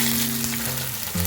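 Onion, chopped chili and curry leaves sizzle steadily in hot oil, a continuous close frying hiss with no voices.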